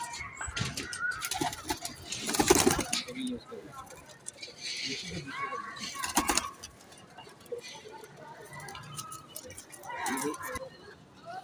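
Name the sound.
pigeons cooing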